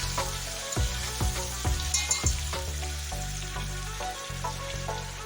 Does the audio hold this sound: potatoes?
yes